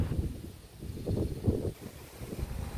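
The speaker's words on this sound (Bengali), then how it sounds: "অনেক বাতাস ছাড়ছে, সম্ভবত বৃষ্টি নামবো।" Strong wind blows outdoors in a village ahead of rain, a low rumbling gusty buffeting on the microphone that rises and falls, with no voices.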